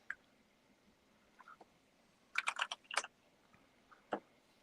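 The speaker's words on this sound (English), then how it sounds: "Can hear you typing away and everything, but click, click, click" Faint keyboard typing: a few scattered key taps, then a quick burst of clicks, followed by one or two more taps in a quiet room.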